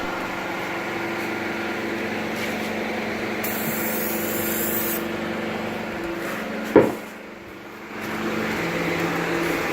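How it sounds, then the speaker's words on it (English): Self-etching primer sprayed from an aerosol can onto a Ford SN95 Mustang's repaired trunk area, a steady hiss running under a constant background hum, with a brief knock near the end followed by a short pause. "So I just laid down 3 coats of this self-etching primer"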